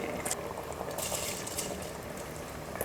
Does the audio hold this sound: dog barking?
no